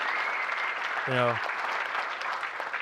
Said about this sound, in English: a round of applause for Patrick and Corey.